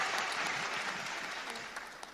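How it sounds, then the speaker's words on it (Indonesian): Audience applause at a graduation ceremony in Palembang, a steady dense clapping from a large crowd that holds evenly and tapers slightly toward the end, with no talk over it. "Oke, mana tepuk tangan ya?"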